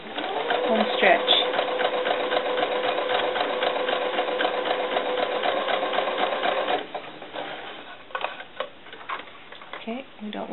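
A sewing machine runs in a fast, steady rattling whir while stitching a doll cover-up, then stops and restarts in shorter bursts, with a person speaking over it.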